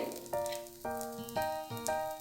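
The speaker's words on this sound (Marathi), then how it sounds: "अशा प्रकारे मी हे दोन्ही व्यवस्थित दोन्ही साईडनी भाजून घेते" A sponge dosa fries with homemade butter in a hot pan, a steady close sizzle with four sharp crackling bursts at about half-second intervals and no voices.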